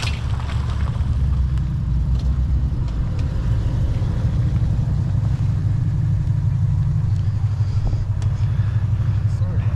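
A loud V8 car engine rumbles steadily close by, a deep continuous drone with no pauses, under the bustle of people meeting and talking.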